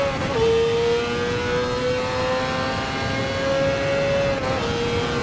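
GT4 race car engines in Gran Turismo Sport, a steady loud drone with a sustained high whining tone that dips slightly in pitch, cars running close together with no gear changes or pauses.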